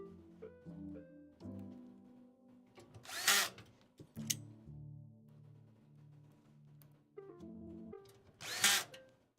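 Radiator screws being driven in while building a PC: a power driver whirs in stepped, rising and falling runs, with two sharper, louder ratcheting bursts, close up and without talk.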